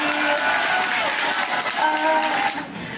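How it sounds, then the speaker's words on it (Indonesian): An audience at a school assembly claps steadily and fairly close, with a few faint tonal sounds mixed in before the applause thins out at the end. "Wah, tepuk tangannya mana dulu?"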